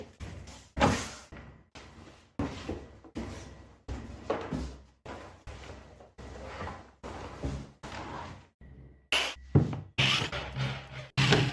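Cardboard and hard parts thump, slide and clatter in repeated bursts while a KB-32 washbooth is unboxed and set up, with short busy handling sounds close by and no voices.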